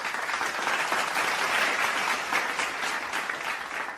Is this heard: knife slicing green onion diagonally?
no